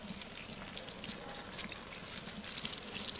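Water pours steadily into rice in a cooking pot, a continuous close splashing hiss with faint sizzling, heard alone without talk.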